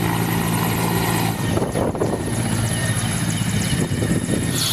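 Rescue helicopter evacuating stranded pilgrims at a holy lake site, its rotor chopping loud and continuous overhead as it flies, a steady heavy thrum with a rising, shifting wash of blade noise.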